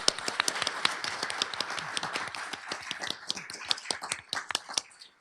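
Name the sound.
audience applause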